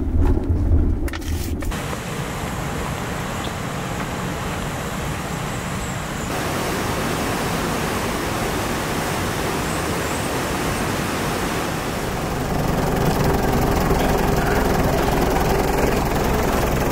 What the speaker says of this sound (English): A few clips of the waterfall,